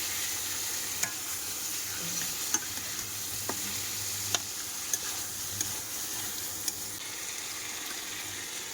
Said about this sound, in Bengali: এবারে আলুগুলো দিয়ে দেবো, মশলার সাথে কষবো